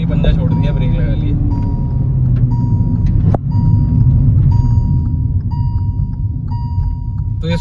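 A Kia Seltos and a Hyundai Verna in a drag race give off a loud, continuous engine rumble heard from close by, with a brief sharp click partway through and faint tonal beeps.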